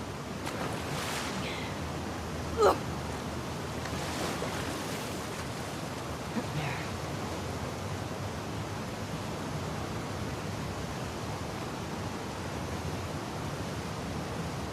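Ocean waves in the game The Last of Us Part 2, a soft continuous wash of surf and wind at low level with a couple of faint splashes, no voices.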